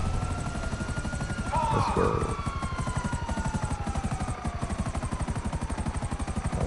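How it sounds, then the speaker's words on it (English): Helicopter in the video game GTA Online, a steady loud rotor chop with a throbbing pulse throughout, whooshing engine whine rising over it, with someone talking briefly over the noise. "It sounds like my chopper is skipping."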